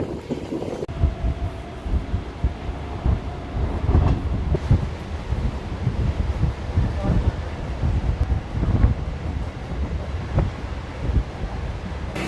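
The Vijayawada–Bhadrachalam MEMU passenger train runs, heard from inside the coach as a constant low rumble with rattles and knocks and gusty wind noise, while voices talk faintly underneath.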